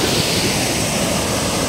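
River water flows in an outdoor setting, a dense continuous broadband rush that stays loud and steady throughout with no voices.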